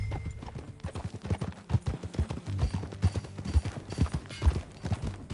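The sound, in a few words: horse hooves clip-clopping in a video game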